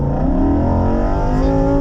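A Lamborghini Huracan EVO Spyder accelerates hard on a race track at Canadian Tire Motorsport Park, its engine note loud and close, climbing steadily in pitch under full throttle with no voices heard.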